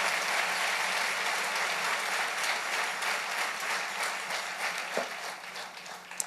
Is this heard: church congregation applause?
yes